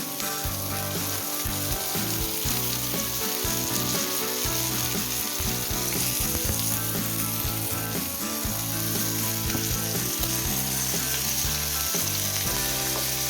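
Pomfret fish frying crisply in oil, Konkan style, a loud, dense, continuous sizzle close up with no talking.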